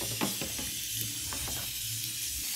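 Stroganoff mixture with cream being stirred in a pan, a soft continuous sizzle and hiss with a few faint scraping strokes, close and steady, no talking.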